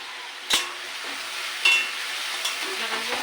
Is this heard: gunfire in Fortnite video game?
no